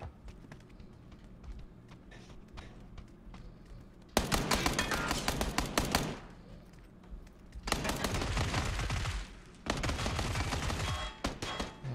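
Three bursts of AK rifle automatic fire in the video game Counter-Strike, each a loud rapid volley of a second or two, separated by brief quieter gaps of ambient game noise.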